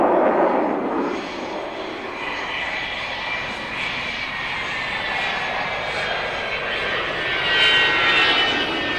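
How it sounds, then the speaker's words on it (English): The Avro Vulcan XH558, a four-jet delta-wing RAF bomber, flies past with a loud, sustained engine roar that swells and fades slightly, heard outdoors close by. "It was the world's first four-jet Delta bomber."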